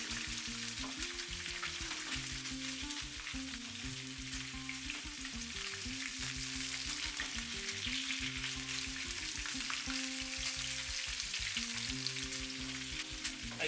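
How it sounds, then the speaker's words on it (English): Salmon sears in hot oil in a pan with a steady, dense sizzle that runs unbroken throughout, close and even. A low repeating hum sits underneath it. "start searing for a beautiful brown color at the bottom"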